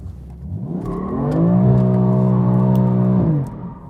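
BMW F82 M4 engine revs up and holds a loud, steady high note for about two seconds while the car spins around with the wheel turned, then the revs drop away. No one speaks over it.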